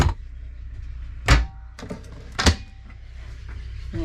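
Caravan cupboard doors shut with two solid thuds and a couple of lighter knocks, close and indoors, separated by quiet pauses with a low background hum.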